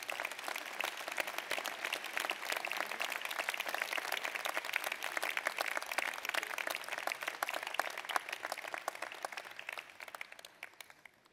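An audience at a 2024 New Year's greetings ceremony applauds steadily, dense clapping sustained throughout before fading out near the end.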